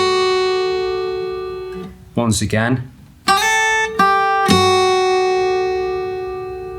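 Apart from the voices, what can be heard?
acoustic guitar playing song verse with percussive hit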